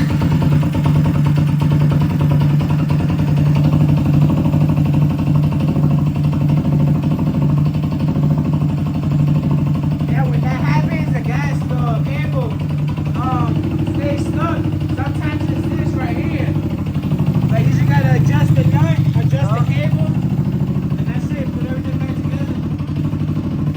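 A car engine idling steadily after a full engine swap, a loud, close, constant low rumble throughout, with people talking over it partway through.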